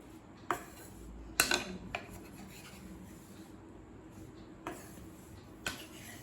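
Cut pieces of brown bread lightly frying in a pan for egg bread masala, giving a soft background hiss broken by a few sharp clinks and scrapes of a utensil against the pan.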